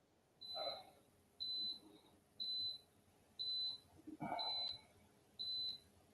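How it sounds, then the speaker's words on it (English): A kitchen timer gives six evenly spaced, high, thin beeps about once a second at a moderate distance, with a brief clatter of dishes in between. "I hear a timer beeping."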